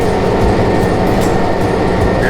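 The Polar Express holiday train at Branson Landing backing up, a steady close rumble of rolling rail cars with a faint squeal of wheels, continuous and loud throughout.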